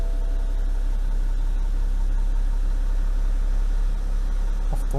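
BMW E60 5 Series diesel engine with a new air filter running at a steady, even idle close by, a constant low drone with no talk over it.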